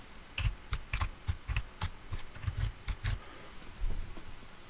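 Keys clack on a computer keyboard as a host ID is typed in. The keystrokes come in an uneven, quick run, close and fairly quiet, with no one speaking.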